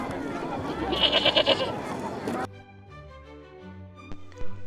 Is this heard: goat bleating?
yes